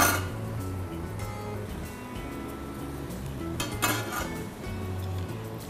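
Pork ribs being stir-fried in a wok, with clanking and scraping of a metal utensil against the wok over a low sizzle, close and moderately loud with no talk.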